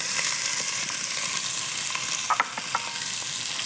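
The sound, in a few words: onions and celery frying in pot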